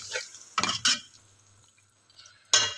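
A spoon scrapes and clatters against a pot while mixing lentils and chicken in a few brief bursts, with quiet bubbling and sizzling between them.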